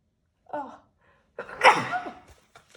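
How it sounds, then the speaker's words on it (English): A single sneeze, preceded by a short sharp intake of breath, close to the microphone in a quiet room. "Sorry, I have to sneeze."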